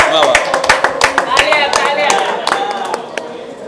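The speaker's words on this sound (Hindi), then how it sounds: "सबसे पहले बॉलीवुड अड्डा दलवंतर के लिए एक बार तालियां हो जाए।" An audience claps at the Netaji Subhash Chandra Bose Nobel Peace Award 2022 ceremony in Mumbai. The hand claps are close and crisp, and they rattle quickly at first before slowing and tapering off.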